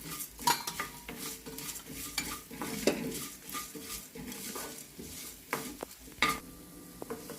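Urad dal and spices fry in oil in a pan with a soft sizzle, punctuated by repeated scraping and clinking of a spoon stirring against the metal, close and fairly quiet, no voices.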